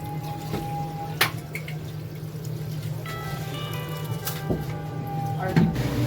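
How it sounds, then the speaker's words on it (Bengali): Water from soaked rice tipped out of a pot in a home kitchen, a soft splashing pour with scattered drips and clinks, set against a steady low background hum. "এই চালের জলটা ফেলে দেবো"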